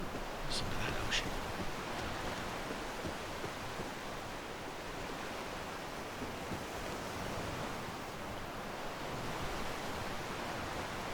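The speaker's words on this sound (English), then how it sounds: "Listen to that ocean." Steady broad wash of ocean surf in the Soul Mask game, a continuous, fairly faint roar of waves with no distinct breaks, heard alone.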